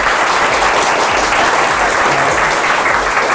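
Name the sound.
audience applause voting at a hypnosis show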